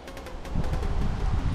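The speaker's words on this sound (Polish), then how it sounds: "wiatr właśnie wieje w naszą stronę, zobaczcie." Wind blows toward the listener beneath a giant tree as rain begins, a steady low rushing buffeting the microphone, with faint rustling and no talk.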